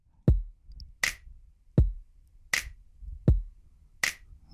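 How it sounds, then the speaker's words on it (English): A beat programmed in FL Studio alternates a deep kick drum with a sharp snap, four kicks and three snaps in an even, sparse rhythm. "So you put the kick on a first, and then snap on a third."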